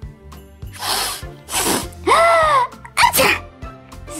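A child with a cold sneezes several times in quick succession, loud and close, with sharp airy bursts and a brief squeaky vocal cry between them.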